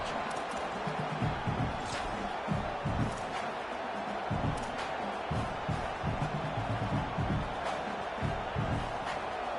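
Stadium crowd noise from a college football video game: a dense, continuous roar of a home crowd with scattered louder swells and thumps, steady throughout.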